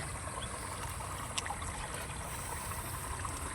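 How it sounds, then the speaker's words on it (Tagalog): Steady stream of water trickling and flowing into a tilapia fishpond on a farm, a constant mid-level wash with faint splashing and no voices. "nagdire-diretso na rin tayo ng tubig"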